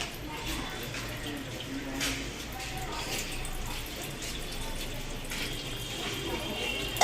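Water poured during a home Shravan Monday worship, a soft continuous splashing trickle, faint and close, with no clear talk over it.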